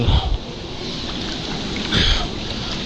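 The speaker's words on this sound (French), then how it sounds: "petite pluie fine" Light fine rain in a river canyon, a soft continuous hiss of drizzle close by, with faint rustling and no clear talk.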